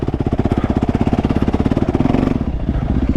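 A 450 dirt bike engine revs hard under a whiskey throttle, close and loud, its rapid pulsing firing beats rising in pitch, then settling into a rougher, steadier drone.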